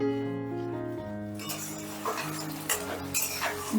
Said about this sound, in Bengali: এবারে গ্যাসের আঁচটা আমি মিডিয়ামে রেখে আবারও মিনিট দুয়েকের মতন কষে নিচ্ছি